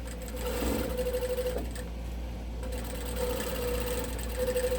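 A sewing machine runs continuously with a fast, even whir and needle rhythm, stitching small stitches through a patchwork Christmas stocking, close and steady with slight speed changes.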